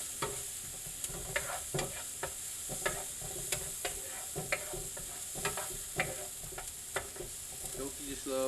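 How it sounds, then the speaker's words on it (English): Mushrooms and shallots frying in a pan for shrimp and pork fried rice, a steady close sizzle broken by regular scraping stirs of a spatula about once a second. "Let me get the mushrooms and the shallots cooked up"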